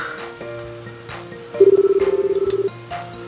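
An office phone call rings out with a steady electronic ringback tone, a rapid pulsed beep lasting about a second, set against soft room noise and faint tonal sounds.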